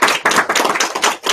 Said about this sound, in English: So big round of applause, everyone.